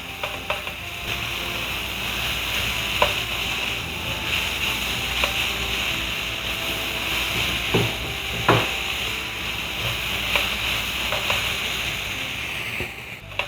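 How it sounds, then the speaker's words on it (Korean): Tofu japchae with vegetables stir-frying in a pan, a steady soft sizzle with occasional clacks and scrapes of a utensil against the pan, no talking. "이렇게 살짝 볶으시고"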